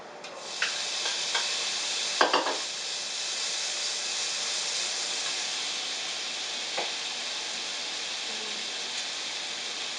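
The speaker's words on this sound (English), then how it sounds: "the pan's nice and hot. We're going to go ahead and stick the bacon on." Bacon sizzling in a hot pan: a dense, steady hiss of frying fat, close and even, with a few clicks and pops near the start.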